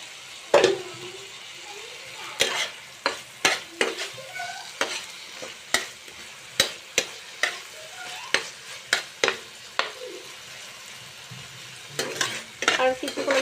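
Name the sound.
potatoes frying and stirred in spice masala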